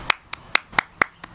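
Six sharp hand claps at a quick, slightly uneven pace, close and crisp, alone with no talking.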